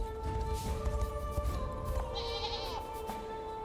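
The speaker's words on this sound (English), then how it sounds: "Goats!" In the fantasy video game Unicorn Overlord, goats bleat a few times against a steady tonal background of game music and ambience, with no talking.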